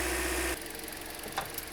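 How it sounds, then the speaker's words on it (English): A 2008-2013 Toyota Corolla engine idles while warming up after radiator and coolant work, producing a steady low hum with faint ticking and a brief louder rattle. "And while this is sitting here idling, warming up"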